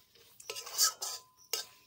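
Ridge gourd bharta being mixed with shelled peanuts in a pan: a few distinct scraping, clinking utensil strokes separated by short quiet gaps, fairly close and soft.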